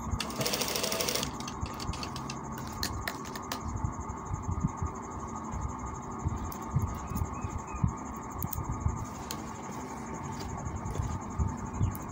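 A sewing machine stitches a kameez seam in a steady, rapid mechanical chatter that runs continuously at close range, after a brief louder start.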